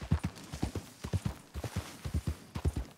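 Horse hooves clip-clop at a steady walking rhythm in the video game Red Dead Redemption 2, moderately faint and alone, in repeated paired strikes.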